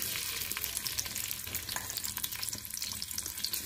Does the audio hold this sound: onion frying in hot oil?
yes